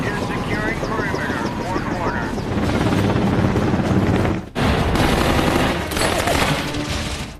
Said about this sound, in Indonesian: helikopter Black Hawk mulai menurunkan pasukan Army Ranger untuk menjaga 4 sisi area